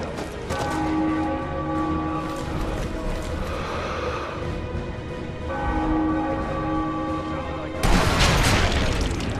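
Combat in Sniper Elite V2 brings a tank and gunfire with booming explosions and bursts of shots, ending on a loud crashing blast near the end, while players talk over the noise throughout.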